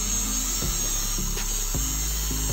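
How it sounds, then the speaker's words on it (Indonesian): Small-disc handheld angle grinder cutting lightweight steel hollow section for a shoe rack, a loud continuous whine with a few short rhythmic catches as the blade bites, close up. "Caranya kita hilangkan saja menggunakan gerinda tangan lagi, menggunakan mata gerinda yang kecil."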